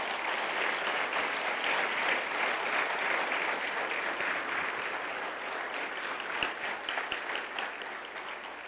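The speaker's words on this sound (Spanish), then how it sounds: "vamos a darle un aplauso al Señor esta mañana" A church congregation applauds steadily, dense clapping that stays loud and even before slowly thinning out, with no talk over it.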